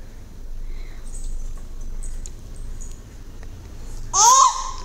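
A baby babbles after drinking water, a short burst of bright high-pitched vocal sounds near the end following quiet room noise with faint chirpy squeaks.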